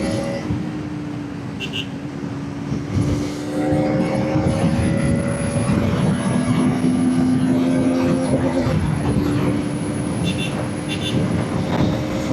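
A 2025 Bajaj Pulsar NS200 motorcycle with a six-speed gearbox is ridden in third gear. Its engine drones loudly and steadily, the pitch climbs as it accelerates, and wind rushes underneath.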